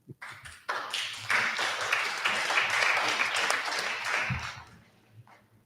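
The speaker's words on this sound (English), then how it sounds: "You deserve some applause for that." Applause breaks out at a school committee meeting, a room of hands clapping steadily for about four seconds before tapering off, with a few isolated claps at the end.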